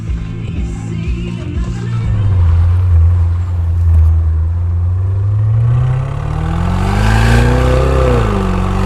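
A 2023 Range Rover P530 4.4-litre V8 runs with its exhaust valves open. The deep, loud engine and exhaust drone rumbles as it builds, dips and rises again while the car is driven.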